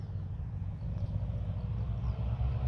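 Twin engines of a Delta Romeo MD312 Flamant aircraft run at full takeoff power, a loud, steady, low droning rumble that holds without a break.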